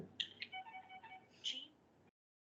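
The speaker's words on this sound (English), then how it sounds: "Sorry, that was my phone." A phone goes off with a short, bright melodic ringtone, several quick tones for about two seconds before it cuts to silence.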